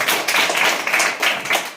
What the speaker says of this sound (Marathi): तुमच्यासाठी एकदा टाळ्या